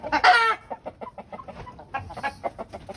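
Shamo breed chicks give a loud, close burst of clucking, then a quick run of short, evenly spaced peeps and clucks that continues steadily.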